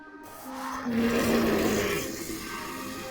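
Gloracus friendly call from the Roblox game Creatures of Sonaria: a sustained, tonal creature vocalization with a rising, swelling middle section, loud and close, heard alone without talk.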